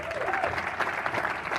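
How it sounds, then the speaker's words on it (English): Audience applause at a live event in Sydney, a soft, fairly distant patter of many hands with a voice faintly audible underneath. "Round of applause for Frankie Muscovich."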